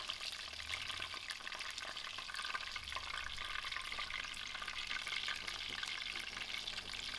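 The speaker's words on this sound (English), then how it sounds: "We are going to fry this 2 until it's golden, crispy brown" Food sizzles and crackles steadily in hot oil as it fries to a golden, crispy brown, a dense continuous hiss with brief low stirring bumps, with no talking over it.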